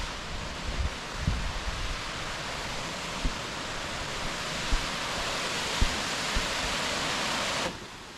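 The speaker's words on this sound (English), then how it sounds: "Yeah, that's the waterfall." A waterfall seen on a hike pours as a broad, steady hiss of rushing water, fairly distant and even, with a few faint footsteps or knocks nearby and no talk.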